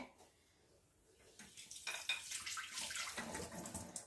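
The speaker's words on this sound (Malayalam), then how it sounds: "കുറച്ച് വെള്ളം ഒഴിക്കുക" Water pours into a roasted-coconut prawn curry after a quiet start, swelling into a close, steady splashing gush that continues to the end.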